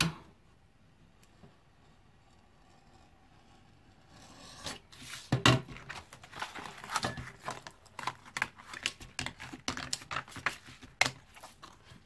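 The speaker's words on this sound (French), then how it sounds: "Donc je vais couper ici à 25 pour faire un carré de 25 par 25" Plastic folder being cut to a 25 by 25 square, a quiet start giving way to a dense run of crisp snips and scraping crackles through the second half, close up with no speech.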